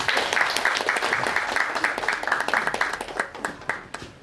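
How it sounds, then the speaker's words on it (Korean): An audience at a civic cultural workshop claps for an arriving speaker, a dense, moderately close round of applause that gradually thins out toward the end. "박수 부탁드립니다."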